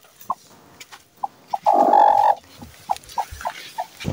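A broody hen on a small home poultry farm gives a series of short, sharp clucks spaced apart, with one longer, louder drawn-out call in the middle, close by with no talk.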